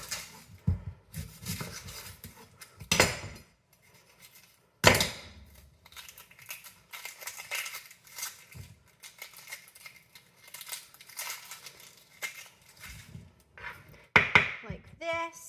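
A hand-operated food processor chops onion in a home kitchen, giving irregular bursts of clattering, choppy strokes separated by quiet gaps, close and moderately loud.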